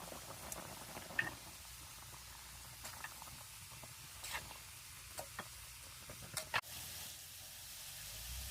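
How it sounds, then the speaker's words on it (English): Water bubbles at a low boil in a pot for spaghetti over a campfire outdoors, a faint steady simmer with scattered small pops and one louder clank; no talking. "Water is boiling."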